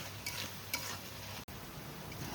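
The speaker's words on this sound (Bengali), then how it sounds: "আর দিয়ে দেব একটা বড় সাইজের টমেটো কেটে রেখেছিলাম সেটা দিয়ে দিচ্ছি দিয়ে এবার সব কিছু ভালো করে কষিয়ে নেব তেল ছেড়ে আসা অবধি" Tomato and spices cooking down in oil for a bhetki fish curry, a quiet even sizzle with a couple of soft stirring taps, heard alone and fairly faint.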